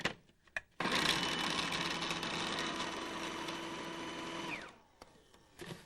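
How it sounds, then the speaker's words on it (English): Food processor whizzing red peppers into rough chunks, a loud steady motor whir running for several seconds after a few clicks, then stopping abruptly. "They're going in to the processor as well. And now we're just going to give those a little whiz and chop them roughly the same size as the tomatoes."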